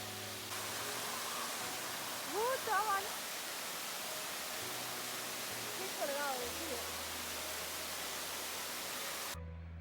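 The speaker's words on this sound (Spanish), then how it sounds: "llegamos a la catarata de Saiyonoi, donde aprovechamos para descansar y refrescarnos un poco bajo el agua" Steady broadband rush of the Sai Yok Noi waterfall near Kanchanaburi, Thailand, a constant wash of falling water with faint voices surfacing briefly in the middle and near the end.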